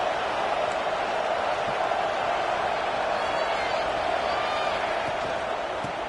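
A football stadium crowd roars in a steady, loud wash of cheering as the home team nears the goal line, a sustained hostile din with no breaks.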